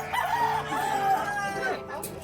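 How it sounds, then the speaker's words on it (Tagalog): Chickens crowing and clucking in a busy, crowded pet market, several birds overlapping at close range with a steady background din. "Ang daming manok. Ayan, oh, grabe."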